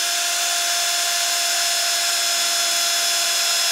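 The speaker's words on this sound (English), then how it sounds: "So I'll get my drill back out. And I'll start sanding with a 320" A power drill fitted with a 320-grit sanding pad works a freshly turned wood succulent planter spinning on a lathe at about 600–700 RPM, giving a steady, bright, high-pitched whine with faint tonal hum throughout, close and uninterrupted.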